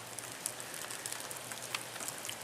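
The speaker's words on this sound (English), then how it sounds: "it's starting to rain a little harder." Rain falls steadily at a lakeside cabin on a cold, windy autumn day, a dense patter of drops striking a surface, with scattered sharper taps and no voices.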